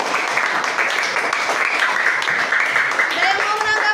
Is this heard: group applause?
yes